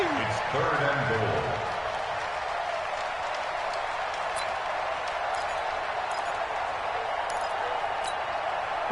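At a San Francisco versus Pittsburgh football game, a stadium crowd swells into a loud, continuous roar building toward a big third down, with a commentator's voice briefly audible at the start.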